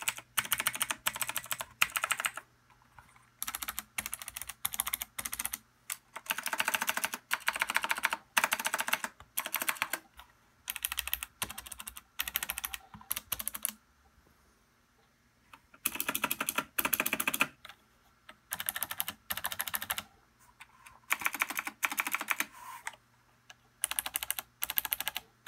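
Typing on a Razer BlackWidow Chroma mechanical keyboard comes in close bursts of rapid clicky keystrokes, separated by brief pauses, with no voices present.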